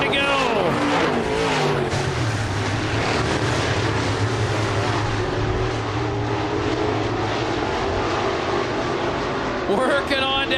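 IMCA race cars roar around Southern Raceway in Milton, Florida on the final lap of the Clash on the Coast, a loud sustained engine drone with rising and falling pitch as they pass, under a continuous announcer's voice.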